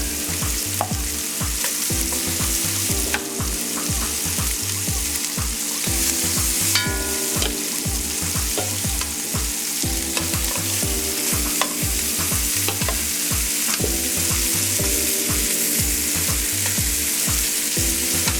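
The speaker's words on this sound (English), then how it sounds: "you should be getting a nice sizzle" Oxtail sizzles steadily as it browns in a hot pan, a constant crackling fry with a rhythmic low thumping underneath and no voices.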